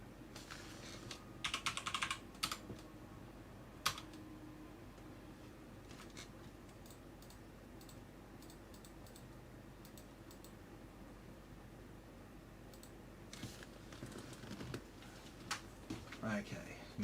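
Computer keyboard typing during setup of a Corsair 4000X PC build, heard as short scattered bursts of quiet keystrokes with long lulls between them, soft and close, with speech at times.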